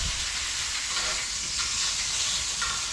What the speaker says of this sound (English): Let's give the bacon a little flip and see how we're getting on with that.